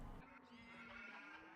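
A horse whinnies inside a Minecraft Feed The Beast modpack (1.6.4 DW20) farm: one drawn-out, wavering neigh that runs nearly continuously and close, with no talking over it.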